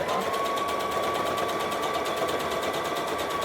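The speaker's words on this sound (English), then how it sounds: "the machine doesn't like to change thicknesses it's sewing over" A sewing machine runs steadily, stitching over the thick seams of a top, with fast even needle clatter and a motor whine close by, unbroken and with no talking.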